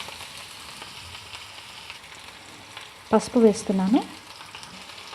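Ridge gourd pieces fry in oil with dried red chillies and garlic cloves, a steady low sizzle running throughout, with a voice briefly speaking over it near the end.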